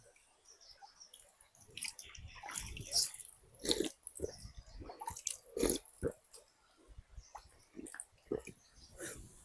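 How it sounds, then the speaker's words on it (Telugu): Stream water gurgles and splashes over rocks in uneven bursts, close by, with small irregular spatters and trickles rising and falling in loudness. "పైన రాళ్ళలో నుంచి అయితే వస్తున్నాయంట నీళ్ళు నిరంతరం ఇలా ప్రవహిస్తూనే ఉంటాయంట"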